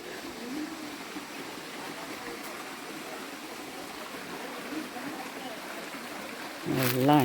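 Stream water at Moodakolly resort flows in a steady, even rush that fills the whole stretch, with a brief louder burst near the end.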